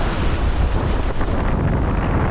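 Ocean waves surge and wash steadily around a sailboat moving through Greenland ice, with constant loud wind buffeting the microphone, the roar continuous and close throughout with no voices.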